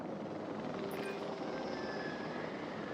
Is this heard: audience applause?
no